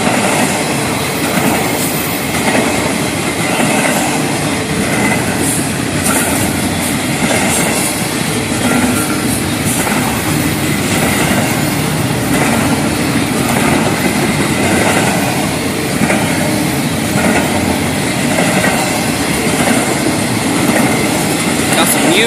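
An FEC freight train carrying auto racks rolls past close by in a loud, continuous rumble, with rhythmic wheel clatter and faint squeals throughout. There is no clear talk.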